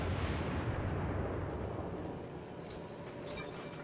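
Battleship main guns firing in the World of Warships naval game, a Fuso battleship: a heavy rolling boom that decays over several seconds, followed by two sharp distant cracks, no voices.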